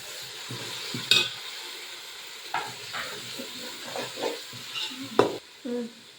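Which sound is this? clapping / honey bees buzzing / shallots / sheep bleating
shallots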